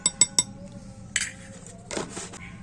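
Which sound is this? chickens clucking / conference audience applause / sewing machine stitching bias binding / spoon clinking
spoon clinking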